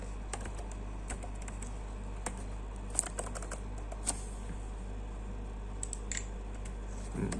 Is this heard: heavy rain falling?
no